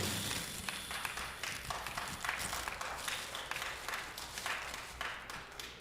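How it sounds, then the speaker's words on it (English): Scattered clapping from an audience in the Los Angeles city council chambers, a light, uneven patter of hands that carries on steadily throughout, fairly faint and with no speech. "Who's clapping all out?"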